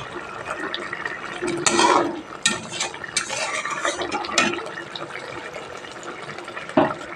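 Katla fish curry with onion paste is gently turned in a pan, giving soft scraping and stirring clatter with a few sharper utensil knocks against the pan, close and fairly quiet.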